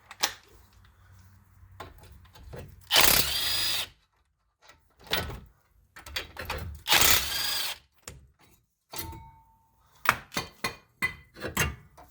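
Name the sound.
power tool removing 19 mm caliper bracket bolts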